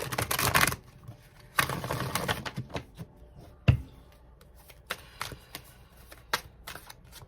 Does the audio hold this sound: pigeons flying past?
no